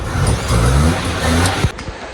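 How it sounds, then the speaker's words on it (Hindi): A car engine roars and revs loudly and steadily up close during tuning, then the noise briefly drops off near the end. "ये गाड़ी की ट्यूनिंग कर रहे हैं जिसकी वजह से उसका शोर आ रहा है"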